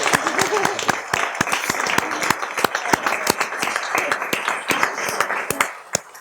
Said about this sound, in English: I think this young man deserves a big round of applause.